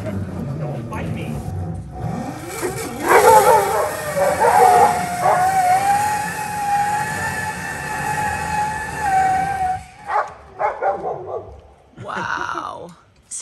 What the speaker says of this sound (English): my dog's gonna bite my ankles because he thinks I'm gonna die or something